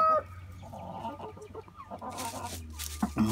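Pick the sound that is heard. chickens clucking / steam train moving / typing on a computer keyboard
chickens clucking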